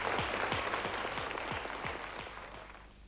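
A game-show audience claps for a contestant in steady rhythmic unison, the beat fading slightly as it goes on.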